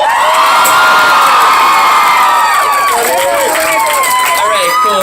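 A concert crowd at a live show in Denver, Colorado, roaring, cheering and whooping loudly and continuously, with high shrieks and shouts rising above the sustained crowd noise.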